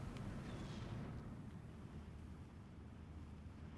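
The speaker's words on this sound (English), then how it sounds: "Mortar should be able to finish off this M set." Muffled mortar fire booms in Steel Division 2, a dense low rumble filling the whole stretch without voices.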